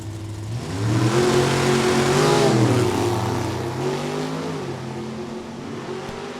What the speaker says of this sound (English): How about that good-looking 68 Ford Mustang GT? Fastback with 428 Ford power under the hood.